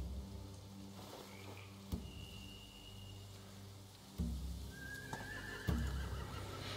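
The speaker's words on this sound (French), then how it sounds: "Ils ont des chevaux." Horses in The Walking Dead video game neigh and whinny at close range, with hoof clip-clops and a steady rain-like patter underneath, the calls rising over the background a few times.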